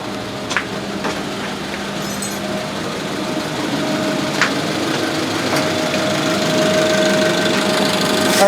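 A 1997 Honda Civic engine idling after warm-up, with a suspected head gasket fault and burning coolant: a steady, close rumble that rises slightly in level, with a faint ticking and a few light clicks and taps.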